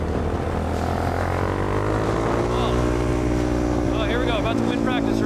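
Supermoto motorcycle on a race track at Adams Motorsports Park, its engine holding a steady loud drone throughout with rising pitch sweeps near the end, captured close from the rider's position with wind rush.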